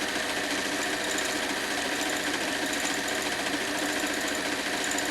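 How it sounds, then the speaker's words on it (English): A sewing machine stitching T-shirt quilt pieces together runs in a steady, fast mechanical whir with a continuous rattling needle rhythm, close and even throughout, with no talking. "So I'm going to sew A and B together"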